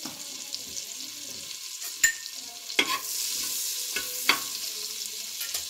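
Whole cumin seeds sizzle in melted oil and butter over a medium flame, a steady crackling hiss broken by a few sharp clinks and scrapes of a spoon, with no voices.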